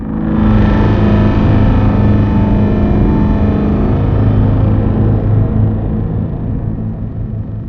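A dense, distorted synth patch built in Phase Plant, inspired by Dune, a loud sustained rumbling drone with gritty layered wavetable texture and a slow shifting movement, thinning slightly toward the end.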